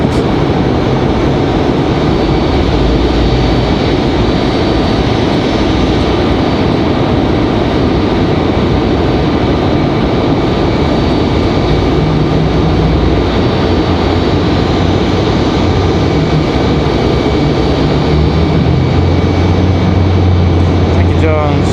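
Southwest Airlines jet departing Raleigh-Durham International, a loud steady broadband engine roar that holds for the whole stretch with a low rumble building near the end, with people talking over it.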